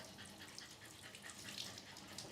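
A quiet, steady hiss of water running from a hose while a dog is bathed at a grooming session, low and continuous without breaks or voices.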